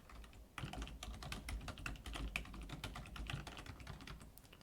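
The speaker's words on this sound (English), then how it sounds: "so I'm going to type." Rapid keystrokes on a computer keyboard while a password is entered for an Azure SQL Server login, an irregular run of close, crisp clicks that begins after a short pause and carries on steadily to the end.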